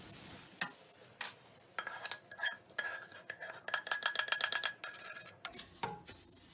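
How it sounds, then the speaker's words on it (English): Rice and garlic get stirred through melted butter in a pot for a crock pot risotto, with a run of close, rhythmic spoon scrapes and clinks over a soft sizzle before the stirring trails off. "Give that a stir"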